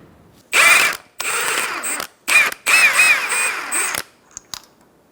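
A power tool with an 18mm socket spins a front strut nut off a 2004-2009 Mazda 3, loud close bursts of whirring and ratcheting broken by short pauses.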